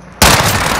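A single sharp, loud gunshot in the first-person shooter Call of Duty: Modern Warfare, an abrupt close blast followed by a dense, ringing tail of noise.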